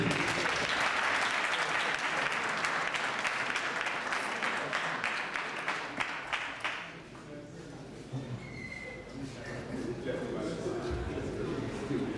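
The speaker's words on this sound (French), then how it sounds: "On peut acclamer." Conference audience applauding, sustained loud clapping from many hands that fades after several seconds into a quieter room with a few scattered claps.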